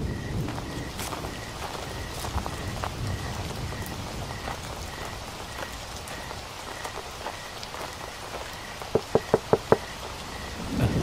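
Stormy night rain in a Bengali horror cartoon falls in a steady, soft hiss, with a faint tonal hum running through it and a quick burst of sharp knocks near the end, as if on a door; nobody speaks.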